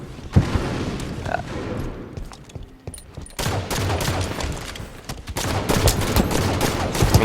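Gunshots fired at long range in a Halo capture-the-flag match, sharp cracks scattered through the stretch, some isolated and some in quick bursts, with background game noise and brief voice.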